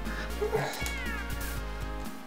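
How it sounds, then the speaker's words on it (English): A cat meows in the Mega Drive game Michael Jackson's Moonwalker, one clear synthesized meow over a looping game music track with a steady beat. "Oh, it's a cat."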